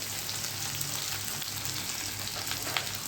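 Potatoes dropped into hot oil with dried and green chillies and asafoetida for a tempering, a steady dense hiss and crackle of frying throughout, close and even.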